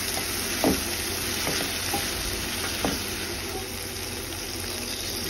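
Tomatoes and fish sauce stirred into a frying fish soup base in a pan, a steady sizzle throughout with a few soft utensil scrapes near the start and middle, close and moderately loud.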